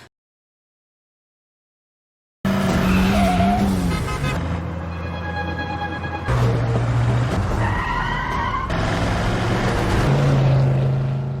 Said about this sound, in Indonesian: Salah satu mobil polisi melihat mobil Linu dan mencoba mengejarnya